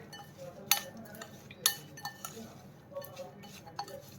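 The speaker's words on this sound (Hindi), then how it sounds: "इसे अच्छे से इस तरह मिला लेंगे" A spoon mixes masala into sweet corn in a bowl, giving a few sharp clinks against the bowl over soft, quiet stirring, with no talk.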